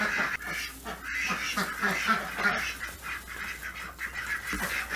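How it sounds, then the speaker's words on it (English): Khaki Campbell ducks quack steadily in a winter farmyard alongside chickens, a dense, continuous overlapping chorus of nervous quacks and honks heard close by without talk. "the khaki Campbells are not the friendliest, sociable with human breed of ducks"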